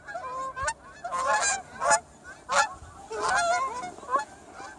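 A flock of geese honk in repeated irregular bursts, several overlapping calls rising and falling at moderate distance against a quiet background.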